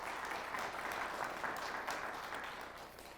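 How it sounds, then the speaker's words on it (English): An audience at a high school quiz bowl match between Belvidere North and Hononegah applauds, with steady, moderately quiet clapping that tapers off toward the end. "How about a nice round of applause?"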